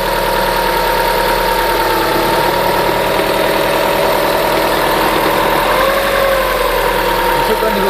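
A Subaru Forester engine runs close by with a steady mechanical hum and a faint repetitive ticking near the timing belt area, while someone talks over it.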